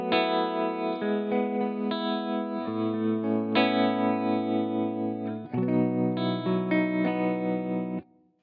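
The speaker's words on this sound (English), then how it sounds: "just a very subtle tremolo." A clean electric guitar played through a Kemper with a subtle tremolo and delay rings out in sustained chords, loud and alone, its tone gently pulsing before stopping abruptly near the end.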